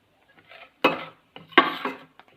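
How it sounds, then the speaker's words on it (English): A spoon scrapes and stirs podi (gunpowder spice powder) around a pan in two short bursts, close and fairly quiet, with light clinks between them. "And I'm going to mix."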